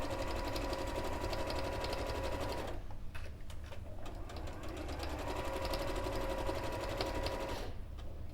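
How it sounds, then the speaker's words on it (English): Sewing machine stitching steadily along the raw edges of fabric scraps for jubilee bunting, a continuous close whirring run that dips briefly as the machine slows and pivots at a corner, then picks back up. "we're now sewing along each raw edge"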